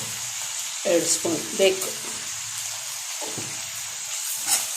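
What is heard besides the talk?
frying ingredients in a pan for chitranna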